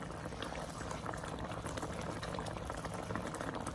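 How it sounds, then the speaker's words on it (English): Moong dal halwa made from a premix bubbles in a heavy-bottomed pan, a quiet, continuous burble of thick boiling with dense small pops and no talk. "you think the bubbles are too high for you to handle, you can slow down the heat a little bit"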